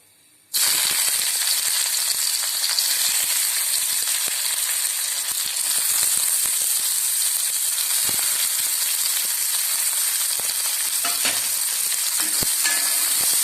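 Onion, ginger, garlic, split green chillies and curry leaves sautéing in a pan for an egg curry, giving a loud, steady sizzle that starts abruptly and continues with occasional stirring clicks, close up, no talking.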